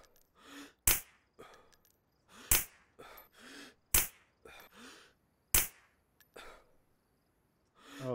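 Four sharp, loud rifle shots ring out at irregular intervals in a DayZ firefight, each a bright full-range crack, with breathy gasps, sighs and short utterances filling the gaps between them.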